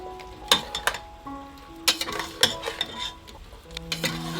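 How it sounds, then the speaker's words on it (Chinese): Chicken feet being stirred with garlic and chili in a pan, with a few scraping clinks of the utensil against the pan over a low sizzle, fairly close and alone without talk. "搅拌搅拌"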